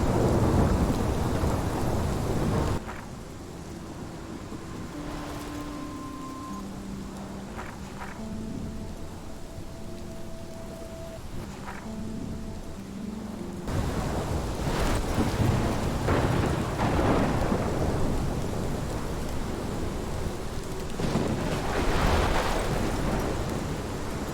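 A thunderstorm in Life is Strange: steady heavy rain with rolling thunder that drops away for a stretch, then surges back loud with bursts of downpour and rumbles.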